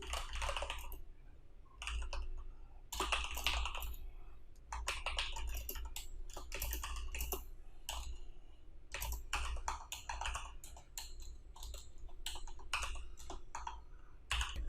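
Rapid typing on a computer keyboard, bursts of close, crisp key clicks separated by short pauses, steady and quiet.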